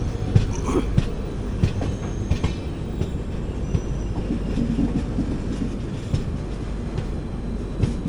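The Kakinada Port–Sainagar Shirdi Express runs along near Kazipet, a continuous rumble of wheels on track with rhythmic clicks and occasional faint squeals, heard up close with no talking.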